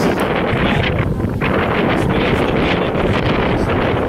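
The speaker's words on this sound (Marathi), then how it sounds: "तुम्ही वाऱ्याचा आवाज" Strong wind outdoors near Satara buffets the microphone with loud, continuous roaring gusts that rise and fall without a break, and no voices are heard.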